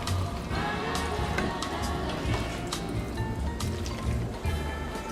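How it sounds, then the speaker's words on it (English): Marinade with spices and ketchup being stirred by hand in a bowl, a steady wet, sloshing, squelching texture with small irregular clicks running throughout at moderate volume. "So I'm mixing them right now with all the spices and ketchup"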